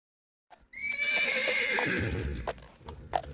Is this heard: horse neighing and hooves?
yes